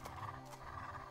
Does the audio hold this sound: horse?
yes